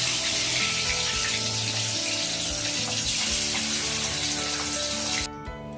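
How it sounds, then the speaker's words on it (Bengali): Pieces of Katla or Rui fish sizzle in hot oil in a pan, a loud, dense, steady crackle that holds for several seconds before cutting off abruptly, with no talk. "বাদ বাকি যে 2 পিস আছে সেটাও আমি ভেজে নেব"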